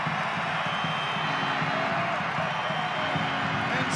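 A stadium crowd roars in delirium after a volleyed equalizing goal at a USL Championship soccer match, a dense, loud, sustained wall of cheering and whoops.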